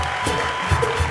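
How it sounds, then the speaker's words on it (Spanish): Studio audience applause welcoming a guest onto a TV comedy show, a brief continuous patter of clapping with some low background rumble and faint voice-like murmurs underneath. "recibamos con un fuerte aplauso a Adrián Parada"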